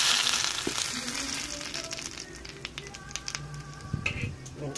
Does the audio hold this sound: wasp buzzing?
no